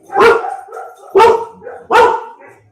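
A dog barks three times in a steady rhythm, loud and close, with short pauses between each bark.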